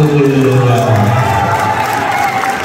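Audience in a debate hall applauding and cheering, a dense crowd wash with a voice or two calling out above it, steady and loud throughout.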